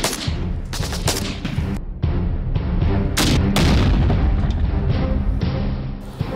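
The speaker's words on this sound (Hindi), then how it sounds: "रॉकेट लॉन्चर फायर किया गया और एक जोरदार धमाका हुआ।" A rocket launcher fires amid a firefight, and loud booms and bursts of gunfire crack in dense, rapid succession, with a sustained roar and no voices.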